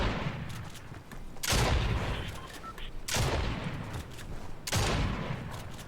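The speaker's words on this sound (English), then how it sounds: "So this one shoots really fast. I think I kind of like the automatic shotgun more," An automatic shotgun fires rapidly in the Fortnite video game, three heavy booming blasts about a second and a half apart over continuous dense game noise.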